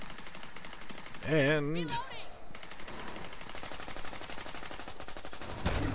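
Rapid automatic gunfire from a deployed turret in The Division 2, a steady stream of shots throughout. A brief warbling electronic tone is heard early on, and someone speaks briefly.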